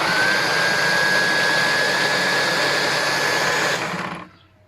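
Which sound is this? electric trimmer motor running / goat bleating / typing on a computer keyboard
electric trimmer motor running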